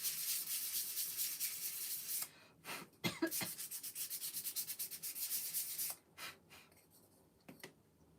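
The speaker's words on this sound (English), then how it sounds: "let me just sand this a little bit" Hand sanding a small wooden craft piece from a wood kit, a steady rasping rub for about two seconds, then short broken strokes with pauses, close and fairly quiet with no talking.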